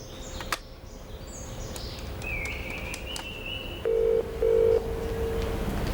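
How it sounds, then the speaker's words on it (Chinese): Telephone keypad tones beep in a few short bursts over a steady hum, faint chirps drifting in the background. "快点打电话给你姐夫，看他到了没有啊？"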